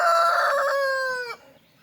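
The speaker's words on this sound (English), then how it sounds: "I just free range them out here and they're just crowing away" A free-range rooster outdoors lets out a single loud, drawn-out crow lasting over a second, close by, ending abruptly into near quiet.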